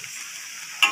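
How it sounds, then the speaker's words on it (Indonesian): Curry paste and mixed vegetables sizzle in a pan while being stirred for spicy instant noodles, a close, bright frying hiss with a brief louder burst of sizzle near the end. "baru kita goreng"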